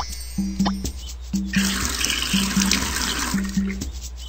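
Water pours steadily in a Nick Jr. browser gardening video game as plants get watered, a rushing, faucet-like flow with short musical tones repeating under it.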